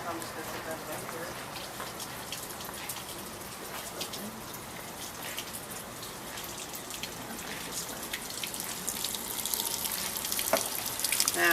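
A tap runs into a sink in a steady, hissing stream with faint splashes, constant throughout and slightly louder toward the end, with no clear talking.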